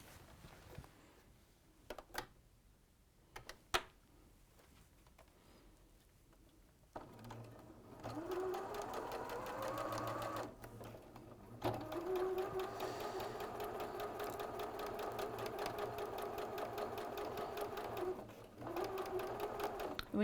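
A sewing machine stitches a cat-themed quilt, first in a few short bursts, then in long, steady runs of fast, even whirring up close, briefly pausing between runs.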